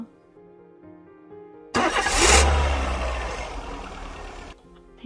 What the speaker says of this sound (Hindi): एक बार गाड़ी स्टार्ट करके देखना।